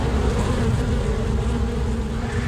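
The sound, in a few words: bees buzzing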